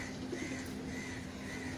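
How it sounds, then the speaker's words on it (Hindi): Soft, low cooing of a Teddy pigeon against a constant hum of background noise, close by but quiet. "ये है टैडी कबूतर"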